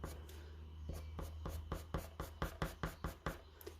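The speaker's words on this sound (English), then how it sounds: "using coloured pencil and the hatching technique, this is the sort of effect you're going to get." Coloured pencil hatches across paper in quick, regular strokes, a dry scratching rhythm that grows slightly louder and more evenly spaced as it goes, close up and with no talk.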